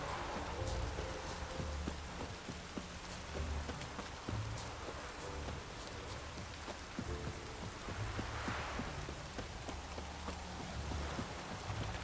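Steady rain falls over a town in The Witcher 3, a soft continuous hiss with scattered drops, heard alone under low game music and ambient tones.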